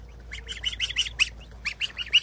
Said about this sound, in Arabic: بط بط بط بط بط